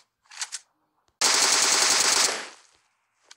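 Automatic gunfire in PUBG Mobile, a loud, close sustained burst of about one second that rings out and fades, with brief quieter noises before and after.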